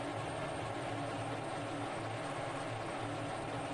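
An F-16 jet engine in the Falcon BMS flight simulator spools up during a ramp start. It gives a steady, loud broadband roar with a low rumble underneath, holding constant and with no talk.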